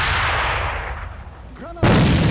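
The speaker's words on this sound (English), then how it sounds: "Interesting nade by the myRevenge team as they'll nade Quelly up on the corner leg" Grenade blast in the online shooter AVA during a tournament match, a sharp loud boom rolling off into a decaying rumble, followed by a brief tonal effect and a second abrupt burst of noise.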